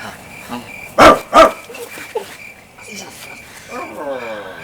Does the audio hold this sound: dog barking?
yes